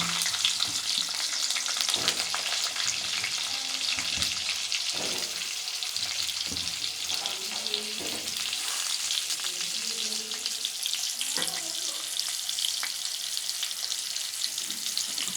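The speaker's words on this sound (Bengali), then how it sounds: "আলুগুলো আমার লাল লাল করে ভাজা হয়ে গেছে" Steady sizzling of long-cut potatoes frying in hot oil with a bay leaf, with occasional stirring knocks, close and continuous without talk.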